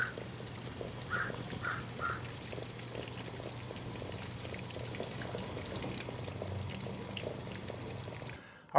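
Water sprays underneath a Jeep from an undercarriage sprayer outdoors, a steady hissing, pouring wash with a few faint bird calls early on and an abrupt cutoff at the end.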